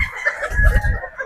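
A gamefowl rooster in a pen gives short, throaty clucks and murmurs close by, a brief burst of low, rough calls with no speech.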